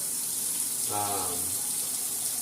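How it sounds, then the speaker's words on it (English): Hot tap water runs into a kitchen sink in a short, steady stream under constant background noise, with no talking. "you're going to want the sink water as hot as it can go"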